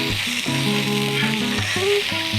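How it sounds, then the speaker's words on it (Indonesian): Garlic and onions sauté in a pan with a steady, close sizzle that runs the whole time beneath a melodic musical backing. "ini kita tumis saja sampainya masak"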